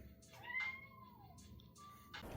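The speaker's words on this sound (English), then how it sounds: "Proof that this cat speaks English." A house cat meows twice in quick succession, a drawn-out vocal call followed by a shorter one, close and fairly quiet in a room.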